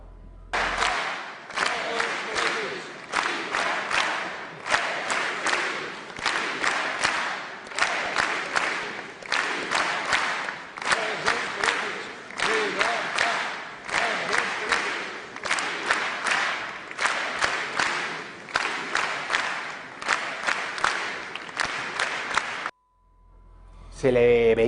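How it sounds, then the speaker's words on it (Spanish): Huge stadium crowd at a Leo Messi award ceremony clapping in steady rhythm and chanting together, a dense continuous roar with regular beat, loud and sustained for over twenty seconds before a sudden cut. "Absolutamente todo el mundo tocaba las palmas al ritmo de Libertad Presus Politics"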